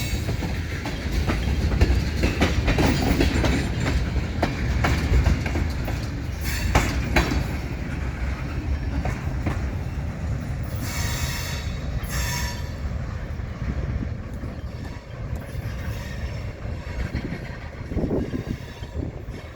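A Wheeling & Lake Erie freight train of about 51 cars, hauled by EMD locomotives, rumbles past close by on jointed rail for a long stretch, wheels clacking rhythmically over the rail joints, with occasional metallic squeals and no talking.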